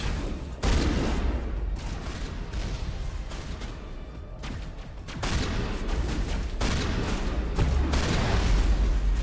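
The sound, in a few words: shotgun gunfire in video game Mass Effect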